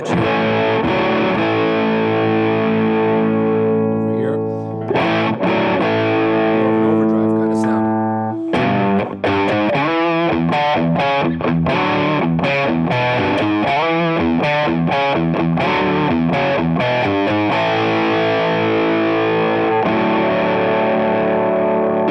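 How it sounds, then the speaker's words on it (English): Electric guitar through a JDM Pedals Humdinger octave fuzz pedal, a modded Foxx Tone Machine style fuzz, loud and continuous with raspy, buzzing distorted tone, sustained chords giving way to fast riffing and then ringing held notes. "get that raspy fuzz edge here"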